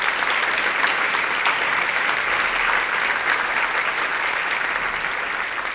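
A university audience claps steadily and evenly throughout, a dense wash of applause with no voices.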